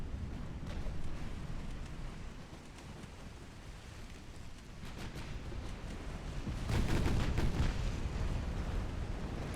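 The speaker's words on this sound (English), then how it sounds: "Secondary is firing high explosive" Battleship secondary guns firing high-explosive rounds in a naval combat video game, a low, rumbling barrage of distant booms that swells louder toward the end, with no talking.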